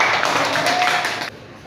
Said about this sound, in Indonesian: Tepuk tangan buat kelompoknya Naila.